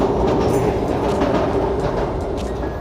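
A train rolls by nearby, loud and steady, a heavy low rumble with light periodic clicks of wheels on rail, easing slightly toward the end with no talk.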